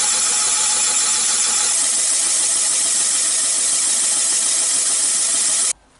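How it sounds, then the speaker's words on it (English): A boring machine cuts a Kawasaki KRL dual-sport motorcycle cylinder with a loud, steady mechanical whir and hiss that runs without a break, then stops abruptly near the end. "we're going to let this go and run through the cylinder"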